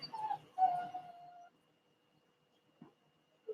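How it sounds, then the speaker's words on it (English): A puppy kept in a kennel whimpers and cries in a few whiny, drawn-out bursts, fairly close, with quiet pauses between them and a brief soft yip near the end. "the one over there crying because Papa fed him and he's got to go to the bathroom now"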